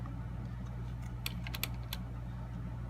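Numbers tapped into a calculator: a few sharp, quick key clicks in a short cluster, close and fairly faint, over a steady low hum, with no talking.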